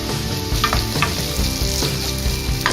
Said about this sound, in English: We will fry the onions till they turn soft.